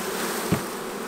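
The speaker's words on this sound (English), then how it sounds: "Look at all these bees on the lid right here." Honeybees buzzing on a hive lid make a steady, dense drone. There is a soft thump midway through the short stretch, and no voices.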